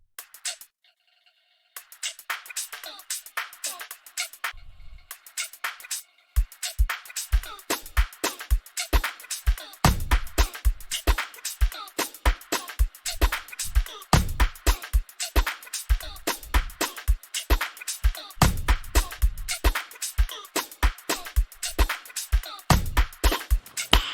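An amapiano drum pattern with a GMP shaker and clap, dense rapid shaker ticks over punchy low kicks and log-drum hits, building after a sparse opening into a full, loud, driving groove.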